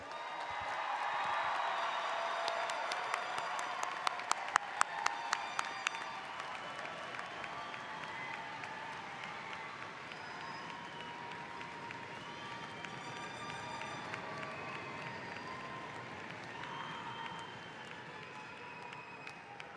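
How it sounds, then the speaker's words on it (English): Applause and scattered cheering from a crowd for graduates at a university fall commencement ceremony, sustained and fairly distant, with a few whoops early on before settling into steady clapping. "How about one more round of applause for our graduates?"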